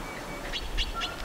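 Short, soft bird calls in a repeated low gu-gu cooing pattern, several quick notes spaced evenly over about a second, faint and somewhat distant with no talking.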